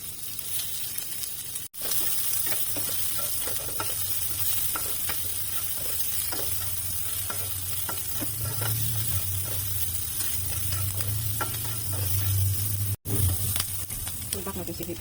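Onions sautéing in a pan for a homemade shrimp dish, a continuous close sizzle with occasional stirring scrapes and brief breaks, with faint voices now and then.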